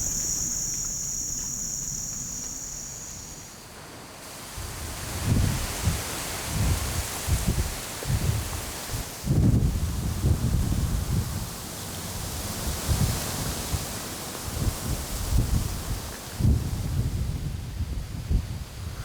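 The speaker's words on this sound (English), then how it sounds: "now it's gotten windy" Wind blows across an open hunting field in gusty rushes and microphone buffeting, with a steady high insect chirr fading out early on.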